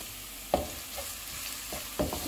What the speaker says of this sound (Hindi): प्याज फ्राई हो गए हैं, इसमें अदरक और लहसुन का पेस्ट डालेंगे।